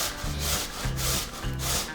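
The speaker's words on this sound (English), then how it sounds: "To shred it, I'm just using this little cheese grater, and I'm gonna use like the second to smallest setting." Carrot shredded on a small cheese grater with rhythmic scraping strokes, about three rough rasping passes in two seconds, close and steady, with no talking.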